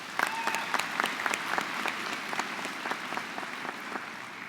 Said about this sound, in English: Let's give those judges a round of applause